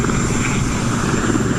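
A Sea King helicopter's rotor and engines make a loud, continuous, overwhelming roar heard up close, with a steady thudding drone and no pauses.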